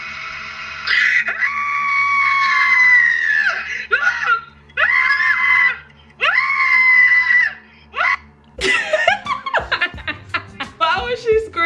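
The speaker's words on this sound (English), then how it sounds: "Why was she screaming like that though?" A woman screams loudly in several long, sustained shrieks separated by short gaps, followed by bursts of laughter and excited voices, close and harsh throughout.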